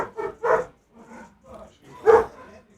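A dog barks several times at close range, short sharp yaps in an uneven rhythm with pauses between, the last bark loudest.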